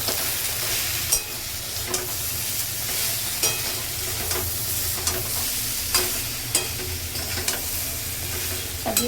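A spiced Bengali dish being sautéed down (kosha) in a pan, loud steady sizzling with sharp, regular spatula scrapes and knocks every second or so.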